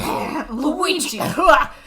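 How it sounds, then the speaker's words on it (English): Mario from a Super Mario video game clearing his throat, a short, close, raspy rumble rising into a harsh vocal catch, loud and heard alone. "Mario needs to clear his throat with this line"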